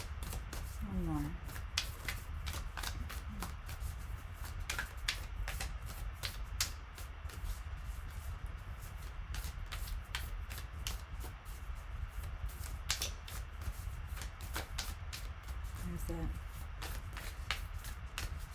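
A deck of tarot cards is shuffled by hand, giving quiet, repeated riffling flutters and soft slaps in short bursts over a faint, steady background.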